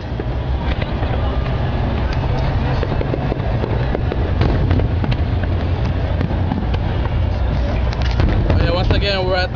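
New Year's Eve 2007 fireworks burst outdoors near a Baywalk parking area, making a dense, loud, continuous rumble of booms and crackles, with people talking and cheering underneath.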